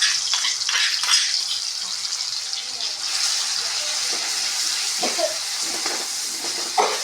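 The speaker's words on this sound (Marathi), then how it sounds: "मिरच्या लसूण तेलामध्ये चांगलं भाजून घ्यायचं आहे." Chopped garlic and green chillies fry in hot oil, giving a steady, moderate sizzle with soft hissing and occasional pops throughout, alone with no talking.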